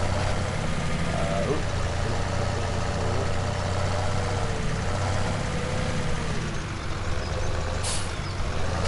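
Tractor engine in the Farming Simulator 17 video game, a steady loud diesel drone with a low rumble running throughout, a brief hiss near the end.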